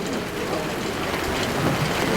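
Steady rain pouring down outdoors during an open-air memorial plaque unveiling, a dense, even hiss close and loud for the whole stretch, with no voices over it.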